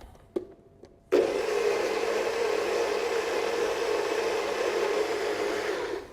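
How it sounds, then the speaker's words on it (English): A couple of soft knocks, then a blender whirs to life and runs at a steady, loud, even pitch until the end. "So straight in the blender."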